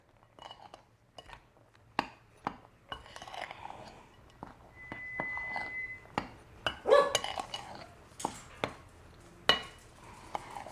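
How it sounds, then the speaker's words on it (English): A utensil stirs dry ingredients for dark chocolate fudge together in a bowl, making sparse, soft scrapes and occasional sharp clinks against the bowl's side in a quiet room. "this is the first step, mixing the dry ingredients together"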